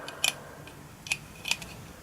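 A few crisp, light plastic clicks from a DIY cube fidget toy, close and quiet, in short irregular bursts over a soft background hiss.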